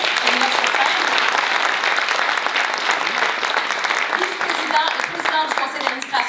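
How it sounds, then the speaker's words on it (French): Audience applause at the FCA 2015 laureates awards ceremony, honouring an award winner: dense, sustained clapping from a sizable crowd filling the room steadily, with no speech over it. "on peut l'applaudir déjà, bravo"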